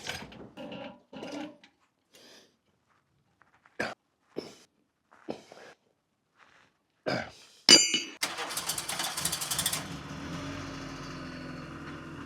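A car, freshly repaired after its hub carrier was grinding into the brake disc, starts with scattered knocks and clicks, then its engine runs and it drives off with a continuous, fairly loud rush for the last few seconds.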